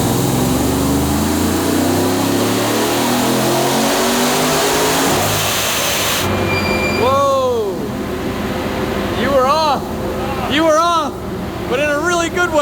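Supercharged work van engine revving hard on a chassis dyno during a pull, loud sustained mid-pitched roar that rises and falls with whining sweeps, while people talk throughout.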